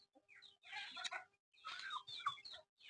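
Village chickens and a rooster cluck and squawk close by in several busy bursts separated by short gaps, with no talk over them.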